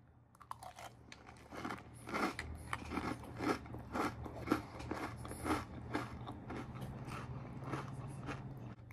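Crunchy TMNT Mutant Mayhem cinnamon cereal being chewed close up, a steady run of loud crisp crunches and bites repeating over a low background hum, with no talking.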